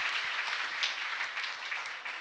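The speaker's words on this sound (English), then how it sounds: "give them a round of applause" Steady, dense audience applause after a talk show event, continuous clapping throughout at moderate level with no talk.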